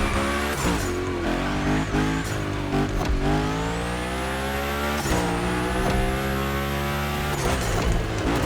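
A car drifts and slides through a gymkhana course in The Crew Motorfest, its engine roaring loud and steady throughout while long tire squeals rise and stretch over it, with a few sharp transient knocks mixed in.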